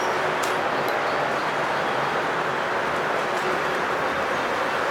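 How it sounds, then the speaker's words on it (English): Five Lionel model trains run together on a large home layout, a dense steady rumble and rolling clatter of wheels on track filling the whole span at close, loud level, with no talking. "we have all 5 trains running"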